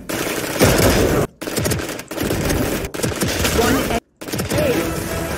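A Stinger submachine gun firing in Valorant, loud rapid bursts of shots cut by brief silent gaps, several sprays in quick succession.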